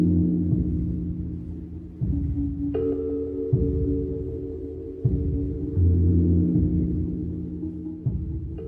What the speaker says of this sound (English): It's called Pulse Persephone from 1959, which showed how tape could be used to manipulate sound.